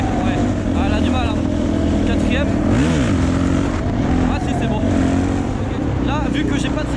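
A Suzuki DRZ motorcycle fitted with an FCR 39 carburetor revs hard in fourth gear for a wheelie, its engine note rising and falling in loud surges close by, with a rider's voice talking over it.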